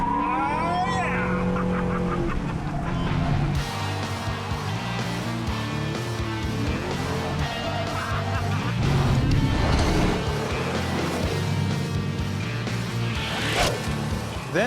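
A Bandit car revs its engine around 3,000 to 4,000 RPM before launching, with loud rising revs and a hard acceleration, heard close and mixed with voices talking.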